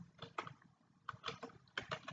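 Typing on a computer keyboard, three quick clusters of soft close key clicks separated by short pauses, quiet and with no voices.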